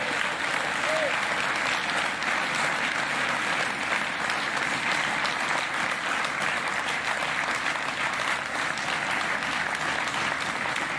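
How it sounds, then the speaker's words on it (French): Sustained audience applause at a large departmental political rally in the Yvelines, France, a dense, even roar of many hands clapping that holds steady for about eleven seconds, with faint crowd murmur beneath. "je demande qu'on t'applaudisse pour tout ce que tu as fait"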